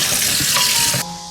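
Tap water runs loudly and close over pig trotters being washed in a kitchen sink, a steady splashing stream that cuts off abruptly about a second in.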